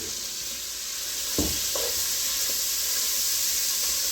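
Smoked gouda carbonara sauce cooks in a pan with a steady bright hiss and sizzle, broken by a couple of soft stirring knocks partway through, close up and with no talking.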